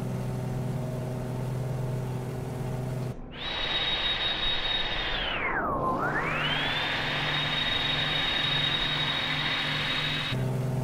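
In Microsoft Flight Simulator, a Beechcraft Model 18 makes a strange jet-like engine whine, a steady high tone that suddenly swoops down and climbs back up over a continuous droning hum.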